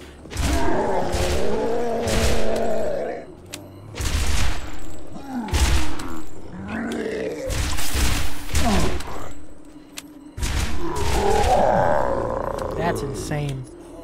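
Rapid gunfire from a fast-firing gun in the video game Borderlands, in short bursts of shots mixed with game sounds and heard under someone talking.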